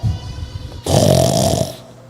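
A preacher imitates snoring with his voice: a short low rumbling breath, then a longer, louder rasping snore that holds for about a second before cutting off.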